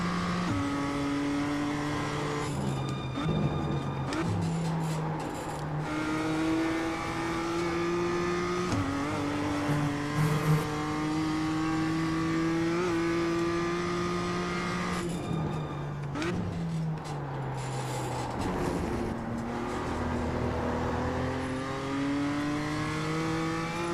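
A race car on hot laps at Oulton Park revs hard and steadily, pitch climbing through each gear before dropping at shifts, heard loud and close from onboard for the whole stretch.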